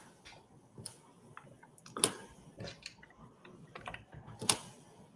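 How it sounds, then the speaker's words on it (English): Someone types on a computer keyboard during an online webinar, producing quiet, irregular bursts of key clicks with occasional sharper taps, close and alone with no speech. "that person stopped typing"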